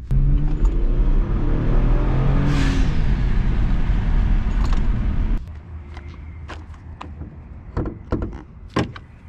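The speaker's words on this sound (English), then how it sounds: "Now I'm going to do the sound of the stock trumpet inside with the windows down." Inside a car with the windows down, the engine drones steadily while the stock-trumpet blow-off valve vents in a brief whoosh, followed by quieter cabin clicks and knocks.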